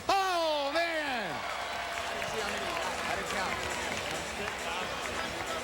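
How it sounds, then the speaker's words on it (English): A crowd at a AAA baseball game between El Paso and Scranton/Wilkes-Barre claps and cheers steadily. A loud wavering voice or horn sweeps down at the start, and the crowd noise holds for several seconds. "How about a big round of applause for Tommy"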